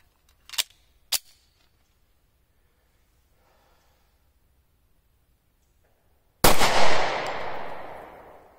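A G2 Research Telos .45 ACP round is fired into a soft eggplant, a single loud close gunshot whose blast rings and fades over a couple of seconds, preceded by a few quiet breaths.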